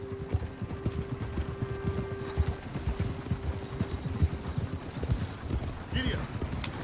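Horse hooves gallop in a steady clip-clop rhythm within a PS4 video game, close and continuous, with a rider's voice and game talk over the hoofbeats and a brief whinny near the end.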